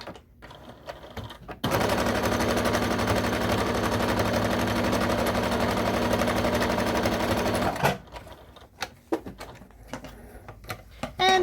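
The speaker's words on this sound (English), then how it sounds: "Let's stitch right across so we can hold this pocket in place." A sewing machine stitches straight across a fabric tea bag packet to hold a pocket in place, running in one loud, steady, rapid whir for about six seconds before stopping and giving way to quiet handling noises.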